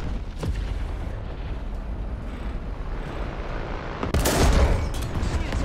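Tank cannon fire in War Thunder low-tier battle, a rumbling barrage of booms with a sharp, loud blast near the end, no talking.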